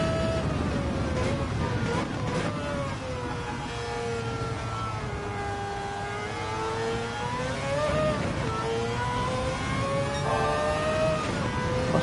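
A Gran Turismo 7 race car engine drones steadily throughout, its pitch sweeping down and back up through gear changes and cornering, loud and continuous with faint talk underneath.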